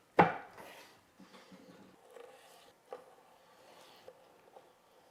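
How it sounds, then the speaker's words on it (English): A knife cuts an end bone off a full rack of pork spare ribs, one sharp chop followed by several quieter cuts and taps on the board, close and alone. "I just took off a little end bone there"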